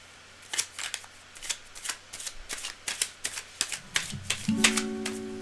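Tarot cards are shuffled by hand in a steady run of crisp riffling bursts, close and distinct, while soft music begins playing underneath toward the end.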